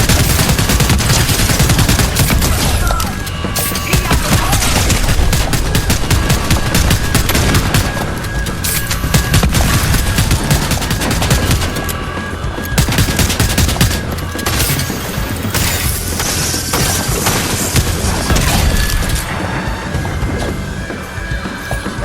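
Rapid, continuous video game gunfire from a charge shotgun, loud and dense blasts overlapping with crashing impacts throughout, no talking.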